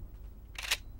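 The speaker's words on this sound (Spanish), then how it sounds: "Le saco la foto." A camera shutter clicks once in the Code of War video game as a photo is taken, a single short bright snap over low background rumble.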